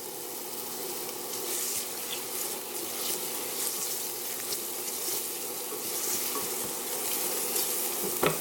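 Cumin seeds sizzling in a pan, a constant, even crackling hiss with little variation that sits moderately close.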